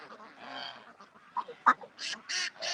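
Ducks quack loudly in a quick burst of nasal calls, close by, with a few softer honks before the loudest cries.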